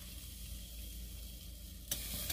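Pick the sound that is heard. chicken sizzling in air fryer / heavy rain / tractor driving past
chicken sizzling in air fryer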